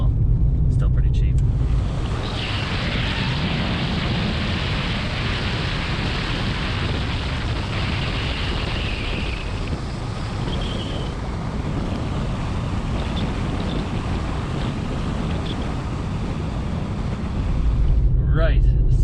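Car driving along a road in Morocco, a steady broadband engine and road rumble with wind buffeting the microphone, continuous and close for the whole stretch.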